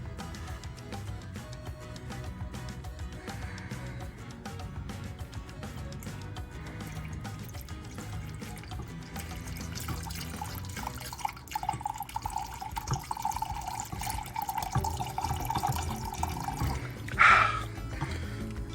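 Melted paraffin wax from used candles pours and drips into a container, a faint, quiet trickle with soft spatters over a low background hum, and a brief louder splash near the end; no one speaks.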